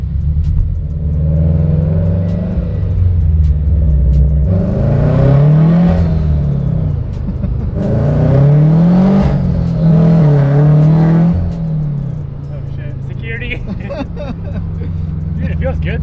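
A supercharged Scion FR-S with a Craftworks kit accelerates hard on the road, its engine droning and rising through the revs in repeated surges, heard from inside the car with people talking over it.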